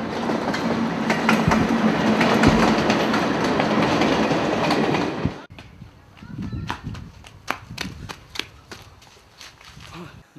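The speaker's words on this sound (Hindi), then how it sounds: "यही रेल है, अगर दिल्ली जाना तो इसी में बैठ लो" A train passes close by for several seconds as a loud, dense rumble with rhythmic clickety-clack from the rails. It then cuts abruptly to quieter scattered clatter and knocks.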